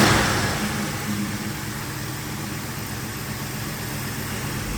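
A tuned small-block Mopar V8 in a Dodge D150 pickup runs steadily, a continuous engine drone with a louder start that settles into an even tone, with no talking.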